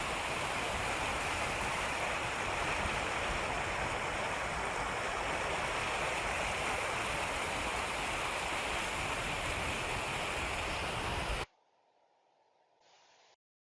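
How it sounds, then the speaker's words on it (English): Heavy drainage flow washing past homes in the Johnson Lane area, a steady loud broadband rush of water that holds constant for about eleven seconds before cutting to near silence. "a video to see the amount of water that's actually flowing through these properties right up next to us"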